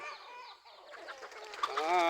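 Chickens giving alarm calls at a hawk overhead, clucking in short, agitated bursts, fairly faint and a little distant, growing busier toward the end.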